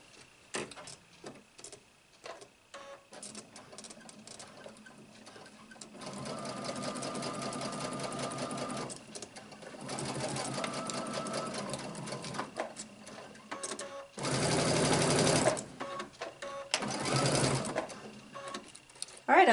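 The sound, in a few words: sewing machine basting pants fabric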